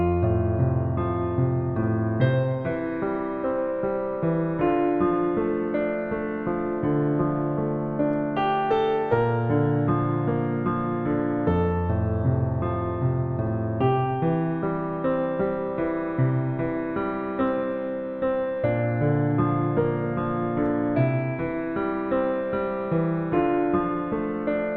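Piano plays a song, with a steady rhythmic accompaniment under the melody, sustained and clear throughout, with no voices.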